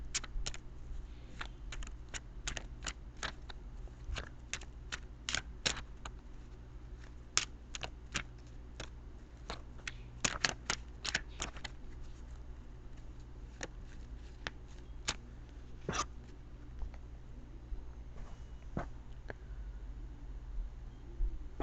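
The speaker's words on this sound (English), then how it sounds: "I'm going to shuffle them again for you" Tarot cards shuffled by hand, a long run of soft, irregular riffling clicks and slaps at close range over a quiet background, with no talking.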